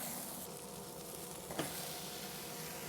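Steak sears in a hot pan with a steady, close hiss of sizzling fat, and a brief scrape or stir breaks through midway.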